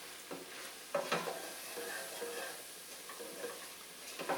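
Flour-coated chili ingredients sizzle in a pot, a soft steady frying hiss broken by a few clicks and scrapes from stirring, close and fairly quiet.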